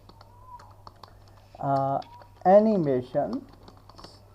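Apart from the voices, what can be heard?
typing on a computer keyboard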